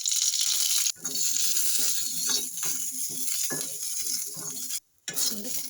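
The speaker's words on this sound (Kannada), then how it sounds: "ಈಗ ಹಸಿಮೆಣ್ಸಿನ್ಕಾಯಿನ ಅದು ಸ್ವಲ್ಪ ಹುರ್ಕೊಳ್ಳೋ, ಒಂಚೂರು ಎಣ್ಣೆ ಹಾಕಿ" Green chillies fry in a little oil in a pan, giving a continuous bright hiss with several short stirring scrapes and a brief pause near the end, no voices.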